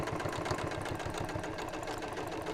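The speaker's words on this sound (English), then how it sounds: "I also think top stitching is a nice finishing touch." A sewing machine running steadily while top stitching around the flap of a simple fabric purse, a quiet, even, fast mechanical whirr with a regular stitching pulse and no talking.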